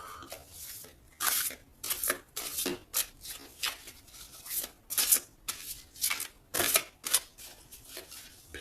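Tarot cards being shuffled and cut, a run of crisp riffling and sliding bursts repeating in an uneven rhythm, close and fairly loud, with no voice over them.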